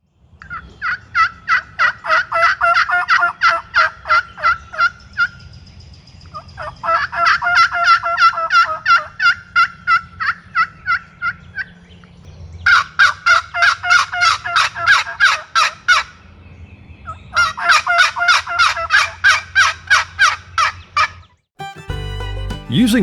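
Box call and diaphragm call imitating a flock of turkeys: four long bursts of rapid, loud yelping and clucking separated by short pauses, with a brief burst of a different sound at the very end.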